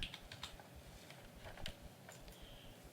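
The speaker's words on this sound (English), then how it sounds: "I will type in cloning and do a search on it" Someone types a search term on a computer keyboard, producing a steady patter of close, light key clicks with no talking.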